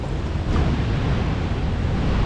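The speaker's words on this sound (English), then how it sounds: "All the water is coming through from the other side." Water rushes through a dam in a snowy setting, a loud, steady broadband roar that holds unbroken from start to finish with no voices.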